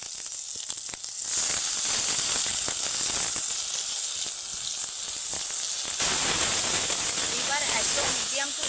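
Amla paste drops into hot coconut oil with fenugreek and sizzles hard, a close, bright hiss that swells after the first second and grows louder again toward the end, with a voice speaking briefly over it.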